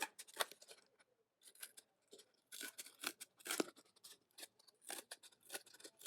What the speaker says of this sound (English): After we make the sign, we can use the scissors to cut out the sign.